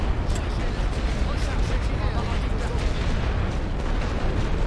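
An artillery barrage thunders in the First World War strategy game The Great War: Western Front, a dense, continuous rumble of overlapping explosions with a voice speaking over it.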